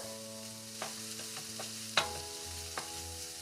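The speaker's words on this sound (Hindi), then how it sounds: "हमको प्याज को बहुत ज़्यादा नहीं सौटे करना है" Onions sautéing in a pan for Jodhpur pyaaz kachori filling with kalonji seeds, ginger paste, green chili, turmeric and red chili powder, a steady soft sizzle with a few stirring scrapes and one sharper clack, no talking.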